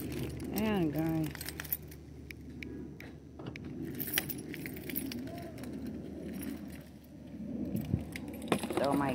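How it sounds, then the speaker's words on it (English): A bunch of keys thrown into a bed storage compartment, jangling and clinking in several bright bursts over a low hum of room noise, with a person talking nearby. "throw my keys and all this goes inside."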